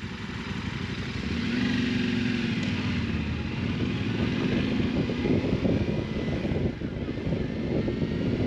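A Yamaha Tenere 700 off-road motorcycle engine drones continuously, a steady rumbling hum with wind buffeting the microphone, moderately loud and without speech.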